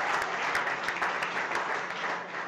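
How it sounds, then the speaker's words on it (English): A live audience at a cooking competition event applauds a sponsor, a dense steady wash of many hands clapping at even loudness throughout, fairly close and without talk over it. "We got Breakthrough Beverage. Give them a big round of applause."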